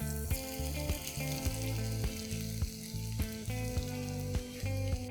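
Chopped garlic fries in oil with cinnamon stick, star anise and cloves, giving a constant crackling sizzle under a rhythmic backing of music, with no one speaking.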